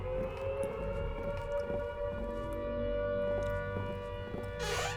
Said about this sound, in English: It's always the air raid sirens.